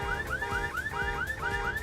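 Car alarm set off by hitting a car in Fortnite, a loud electronic siren whose rising sweeps repeat about three times a second, steady and close with no voices.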